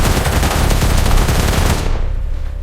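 A loud, rapid machine-gun barrage sound effect from a dramatized army and police confrontation, continuous overlapping shots that fade into a dull rumbling tail at the end, with no talk.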